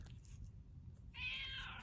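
A cat lets out a single clear meow near the end, close and fairly loud after a quiet stretch of low background rumble.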